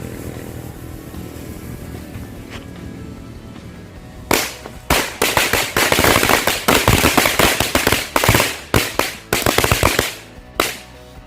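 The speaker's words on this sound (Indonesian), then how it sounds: "Selanjutnya kita nyalakan mercon korek 1 gepok" A string of match firecrackers (mercon korek) goes off after a quiet lead-in, with a rapid, irregular burst of loud sharp cracks and pops fired close by for several seconds before tapering off.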